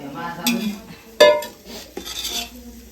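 Biryani ingredients are mixed in a pot with a metal spoon, giving a few scraping stirs and sharp clinks against the rim, close and uneven.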